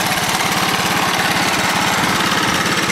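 Honda 200S three-wheeler engine running after an exhaust leak repair, a steady, fairly loud, rapid putter at constant speed, close by with no talking.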